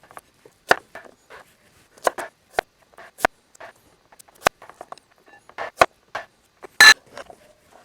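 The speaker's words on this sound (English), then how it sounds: "Chop these to bite size, so they're about the same cooking time as the other ingredients." Vegetables for a chicken and roasted fall vegetable stew are chopped to bite size, heard as crisp, irregular knife knocks on a cutting board, close and clear with brief pauses between bursts of cuts.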